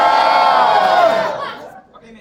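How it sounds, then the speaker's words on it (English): A room full of people screams together at full volume, a loud sustained roar of mixed voices that holds for over a second before tapering off abruptly into near silence. "I want everybody to just scream at the top of their lungs"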